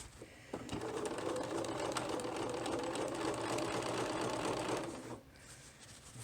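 Sewing machine running steadily while stitching a lined embroidered net dress, a fast even clatter of needle strokes held for about five seconds before stopping, fairly quiet and close.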